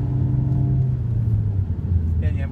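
A manual-transmission car's engine hums and rumbles steadily while driving, its pitch sliding lower as the revs drop, heard from inside the cabin with people talking over it.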